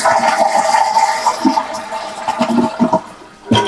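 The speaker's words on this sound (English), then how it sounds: "Flush the toilet a couple times" A toilet flushes loudly nearby, water rushing and gurgling steadily, ending with a brief clunk.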